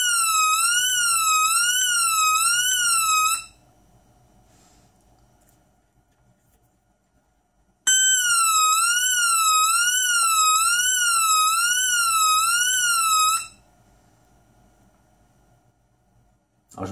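A small 5-volt siren on an Arduino Nano RFID and PIR alarm wails in two loud, warbling bursts of about four and six seconds, with a near-silent pause between them.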